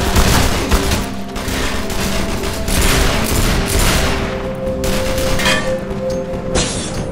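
Dense video game combat in E.Y.E. Divine Cybermancy brings a loud, continuous wash of gunfire and grenade blasts, with heavy booms and crackling shots layered over one another throughout.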